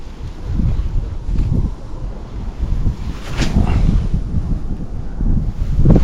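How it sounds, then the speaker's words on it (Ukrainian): Steady wind roars across the microphone on the shore of a small pond, with low rumbling gusts, joined by a wash like surf, loud and continuous throughout. "Правда, вітер щось не в тему піднявся"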